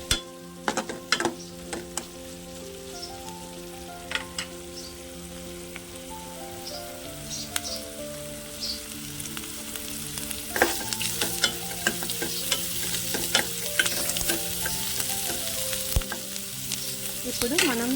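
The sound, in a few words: ginger garlic paste frying in a pan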